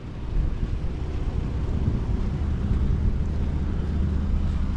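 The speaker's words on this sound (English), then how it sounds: "V6 is sounding good as could be" A 2011 Dodge Nitro Heat 4WD with a 3.7 liter V6 engine idles steadily, a low, even rumble with faint wind noise, no voices.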